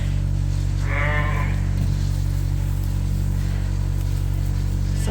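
Ewes and lambs in a sheep barn, with one clear bleat standing out over a steady low barn hum and fainter bleats from the flock.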